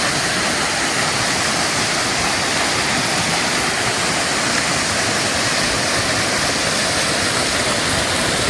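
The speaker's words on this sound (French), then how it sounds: "Vous voyez, là, c'est les cascades." The Baume-les-Messieurs cascades pour in a loud, constant roar of falling water, a dense unbroken wash heard up close with no voices.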